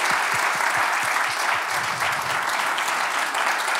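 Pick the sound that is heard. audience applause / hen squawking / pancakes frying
audience applause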